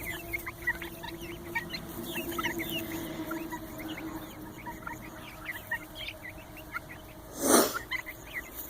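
Chickens in a coop clucking, with repeated soft clucks and chirps at close range, and a brief louder rustle or squawk near the end; no one speaks.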